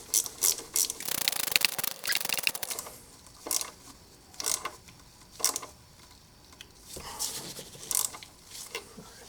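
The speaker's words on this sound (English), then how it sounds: "let's tighten up these 8mm bolts for the airbox" Ratchet clicking as 8mm airbox bolts are tightened on a 2007 Honda Accord 2.4 liter, sounding in several close, quick bursts of metallic ticks separated by short pauses.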